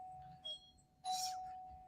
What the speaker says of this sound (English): That's my doorbell ringing.